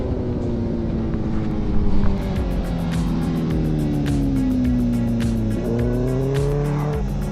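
Racing motorcycle at full throttle on a track while overtaking a blue Yamaha R6, its engine whining steadily close up under wind rush, with pitch dips and rises through gear changes and no talking.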